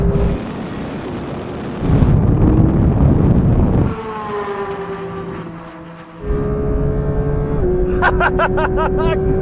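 Porsche GT3 race car engines in a racing game roar at close range, holding steady revving tones with upshifts and a rising whine as the cars battle wheel to wheel, wind-like rush underneath.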